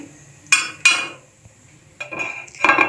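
Thick yogurt spooned onto a plate, with two sharp metal spoon clinks, a quiet pause, then softer scraping and clattering of cutlery against the dish, close up, no voices.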